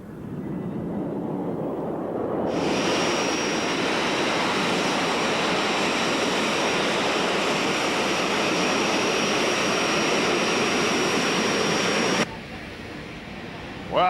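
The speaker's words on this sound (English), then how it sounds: "Now we've come to a busy airport where we're going to see some much larger jet airplanes" Southwest Airlines jet airplanes at a busy airport near Los Angeles fill the air with a loud, steady jet-engine roar and a high whine, close by and continuous for several seconds before it cuts off sharply.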